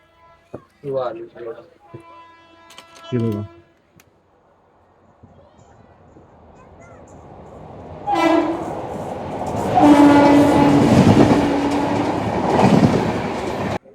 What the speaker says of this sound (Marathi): त्या साईडला ना क्रॉसिंगला ट्रेन होते